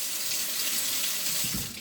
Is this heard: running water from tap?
yes